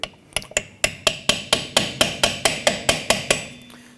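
A hammer drives a chisel against a rusted rear wheel hub on a 2017-2020 Hyundai Elantra, giving about fifteen sharp metallic strikes in an even, quickening rhythm, close and loud, with no talk.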